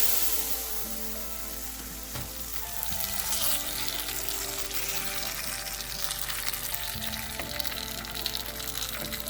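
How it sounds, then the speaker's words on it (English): A tadka of cumin seeds, dry red chilies and curry leaves hits a pot of dal palak, setting off a bright, hissing sizzle that holds steady and close throughout. "Now add the tadka to the dal."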